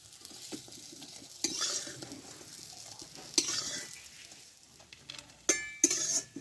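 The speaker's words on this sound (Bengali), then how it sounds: "এটাও আমার ভাজা হয়ে গেল খুব অল্প তেলে" Cauliflower leaves frying in a pan in very little oil with a faint steady sizzle, broken by several louder bursts of stirring and scraping, close up and without any talk.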